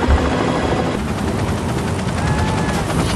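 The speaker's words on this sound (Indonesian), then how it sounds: "Dipimpin oleh Carter sang pilot helikopter, Kate dan kawan-kawan pun langsung meluncur ke Antartika saat itu juga." A helicopter flying toward Antarctica, a steady loud rotor and engine roar with rhythmic chopping that fills the whole stretch, close and continuous, with no talk over it.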